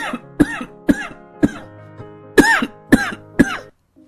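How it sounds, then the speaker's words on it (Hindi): An older man coughs loudly again and again in an animated cartoon, about seven harsh coughs in a row with short gaps, close and with no talking. "इतने में ससुर तेज तेज खांसने लगते हैं।"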